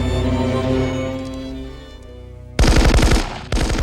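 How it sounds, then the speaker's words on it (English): Rapid automatic gunfire crackles in two loud bursts from a scene in the film Die Hard, following a sustained musical score that fades out, with a short pause between the volleys. "we cut back to John hearing the gunfire"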